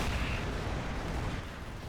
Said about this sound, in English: Major artillery on the AT guns.